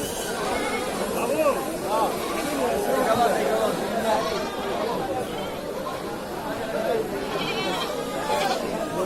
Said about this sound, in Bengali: অনেক ছাগল উঠছে, অনেক।